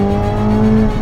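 A 2023 Chevrolet Corvette Z06 engine holds a loud, steady high-pitched howl with a strong tonal whine, close and alone, as it revs on track.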